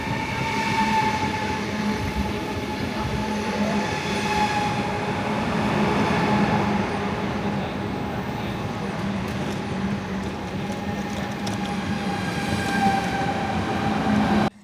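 A Eurostar passenger train travels with a steady loud rumble and rolling wheel noise, faint tonal whines running through, heard from inside the carriage.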